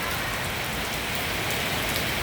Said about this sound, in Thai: ฝนตกด้วยครับพี่น้องตื่นเช้ามากฝนตก